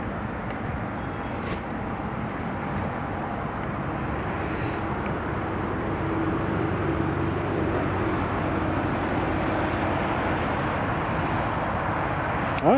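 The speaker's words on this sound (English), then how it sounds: "Ryanair just starting up." A Ryanair jet starting its engines at Newcastle airport after pushback, a broad steady rumble with a low hum that swells slightly midway, moderately close and free of talk.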